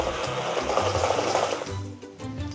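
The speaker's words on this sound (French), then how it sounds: "maintenant on va mixer cette préparation" Blender whirring through a hot fruity Passendale cheese mousse mixture for a siphon, a steady loud buzz for about a second and a half before cutting off, with a quieter low hum after.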